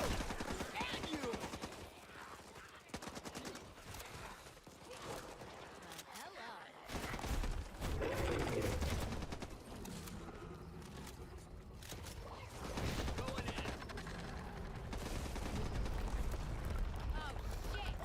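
Rapid bursts of automatic gunfire and booming blasts from a video game trailer shown at The Game Awards 2020, loud and dense, mixed with music and shouted voice lines.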